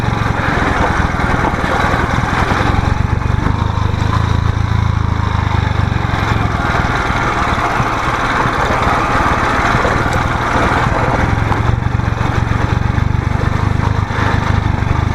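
Motorcycle engine running steadily while riding off-road, a continuous close, rough drone with constant rumbling and no breaks or speech.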